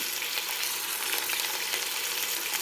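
Fish sizzles loudly in a pan right after being flipped, a dense, even crackle and hiss from start to finish with no pauses.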